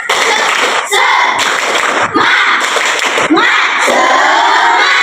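A classroom of children claps and shouts the tepuk semangat chant together, loud and close, in several punchy phrases broken by brief gaps.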